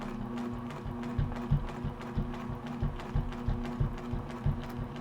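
A sewing machine stitches in the ditch on a log cabin quilt, its quiet rhythmic needle clatter ticking close and steady for several seconds with no talk.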